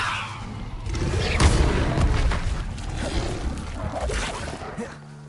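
Levioso spell cast in a video game, a whooshing magical burst over a heavy booming thump, followed by rumbling impacts and swishes that fade out near the end.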